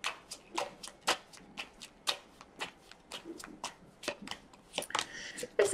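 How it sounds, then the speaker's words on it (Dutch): Tarot cards are shuffled by hand in a series of quick riffling and slapping bursts, close and crisp, with irregular rhythm and short gaps between shuffles. "Ga de kaarten schudden om te kijken wat deze week voor jou gaat brengen."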